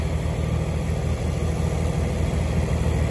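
A 1990 Ford 4610 tractor idles steadily close by, a continuous low diesel rumble with an even throb and no speech over it.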